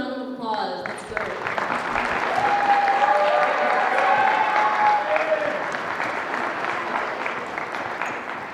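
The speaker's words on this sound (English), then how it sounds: "Let's give them another round of applause." An audience at the Manzanar at Dusk event gives a round of applause, a sustained, dense clapping that swells and then slowly thins.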